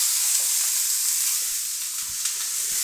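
Burger patties sizzle and fry in canola oil in a preheated cast iron skillet, a steady bright hiss filling the clip with a few faint low bumps and no talking.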